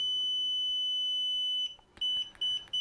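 A FNIRSI 2C53P handheld oscilloscope-multimeter gives a steady, piercing high beep for over a second and a half, then a run of short, quick beeps after brief gaps, close and clear with no talking.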